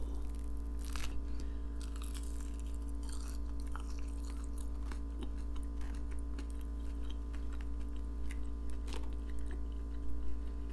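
Crunchy chicken nuggets chewed in close-up ASMR style, with sparse, irregular crunches over a steady low hum.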